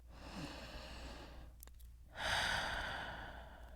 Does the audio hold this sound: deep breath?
yes